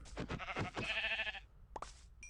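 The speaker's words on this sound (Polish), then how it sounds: "Widzę kolejną owcę, więc muszę jej troszeczkę ubić." Sheep bleating in the video game Minecraft, a wavering bleat lasting over a second followed by a short pop, sounding close and clear with no talk.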